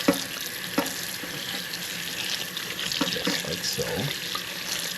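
Tap water runs steadily into a kitchen sink as salted codfish is rinsed under the stream, a continuous close splashing with a few brief handling knocks and a short spoken remark over it.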